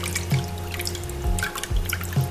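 Warm water trickles and drips into a bowl to dissolve salt for a sardine fish brine, a steady close run of liquid broken by a few louder plops.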